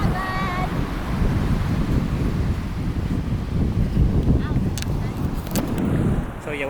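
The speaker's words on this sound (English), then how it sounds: "Sorry about the wind." Strong gusty wind buffets the microphone at Rainbow Beach, a loud continuous roar with surf and ocean wash underneath and no talking.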